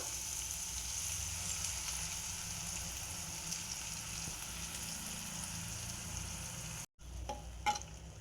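Masala powder sizzles and fries steadily in hot oil for beetroot palya, a continuous close crackle that cuts off abruptly near the end before resuming with a few sharper clicks.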